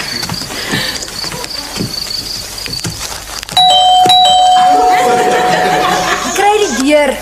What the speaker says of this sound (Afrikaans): Die klokkie lei altyd ewe hard behalwe wanneer die batteries pap is.